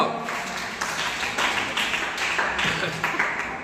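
A church congregation clapping hands during a Tamil sermon, a continuous, rhythmic wash of many hands beating in steady pulses, loud and close, filling the whole stretch.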